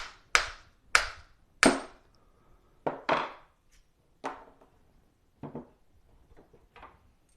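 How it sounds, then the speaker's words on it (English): A soft hammer tapping a coin off a punch while making a coin ring: a series of sharp, separate taps, about eight, spaced unevenly and gradually getting softer, with quiet gaps between them. "Take a soft hammer. Don't want to damage the punch."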